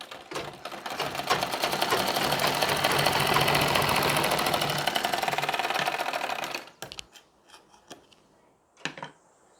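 Sewing machine running steadily for several seconds while stitching the lining of a Nauvari saree, then stopping abruptly, followed by a few faint handling clicks.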